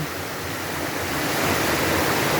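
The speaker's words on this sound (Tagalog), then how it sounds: "Dito sa harapan ng bahay namin, dito bumabagsak itong napakalakas na agos ng tubig." Strong, continuous roar of a swollen river current rushing past the front of a house after very heavy rain, its water coming down from the mountain, a dense, loud, unbroken wash of water noise.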